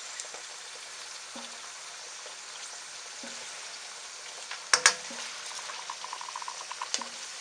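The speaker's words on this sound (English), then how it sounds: "Just to wait for the prawns to cook till they turn bright orange." Prawns cooking in a pan over low-medium heat produce a quiet, continuous hiss and light bubbling, with a few faint taps and one brief louder clatter partway through, and no talking.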